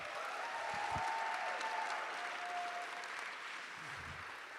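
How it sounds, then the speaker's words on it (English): Audience applause for a panelist at a panel discussion, a soft, distant wash of many hands clapping that stays steady and faint throughout, with a faint tone lingering underneath. "can we just give this incredible panelist an incredible huge round of applause?"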